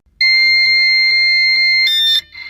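Loud, steady electronic tone with a pure, bright pitch signalling a link being established in a deep-sea podcast segment, holding for nearly two seconds before shifting into a brief harsher burst and then a softer tail.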